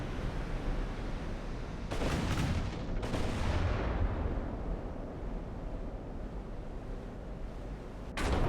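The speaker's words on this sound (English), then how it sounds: "Looks like they're firing HE" Warship guns fire high-explosive shells in the naval game Ultimate Admiral: Dreadnoughts, with a few heavy booming blasts rolling out over a constant roar of battle noise, the last shot arriving near the end.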